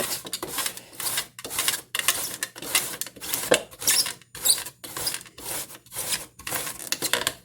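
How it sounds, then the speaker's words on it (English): Fresh zucchini rubbed against a hand grater, producing a steady run of rhythmic rasping strokes, close and moderately loud, with brief gaps between passes and no talking. "I am going to cut the ends off some zucchini and start grating it."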